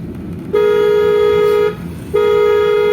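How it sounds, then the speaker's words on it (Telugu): Two loud, sustained blasts of a car horn close by in traffic, the first about a second long, the second held to the end, with a short gap between. "క్లచ్ డౌన్ చేసుకొని బ్రేట్ చేసుకొని హార్న్ కొట్టాలి"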